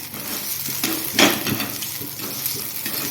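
Green chillies roast in a hot pan for a quick brinjal bhaji, with a continuous sizzle, scraping stirs and a sharp clank of a utensil against the pan about a second in, close and fairly loud.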